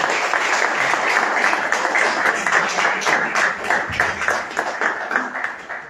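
Audience applause at an Italian talk on educational poverty and the training system, a steady broadband patter of many hands clapping close by, continuing for several seconds with no speech over it.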